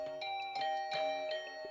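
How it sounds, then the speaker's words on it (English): A bell in the video game The Hundred Line rung fiercely over and over, its bright metallic tones struck about four times in quick succession, each strike blending into a sustained ringing layer. "I started to fiercely ring the bell over and over."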